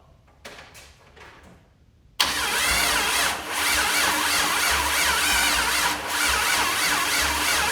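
A 1951 Ford Shoebox with an LS engine swap comes to life on its first start: a few faint clicks, then a loud, sudden burst into a steady, close-up idle that dips briefly twice.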